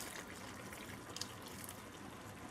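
Water poured into a pot of vegetable rice with corn and green seasoning, a soft continuous trickle and splash, close and fairly quiet.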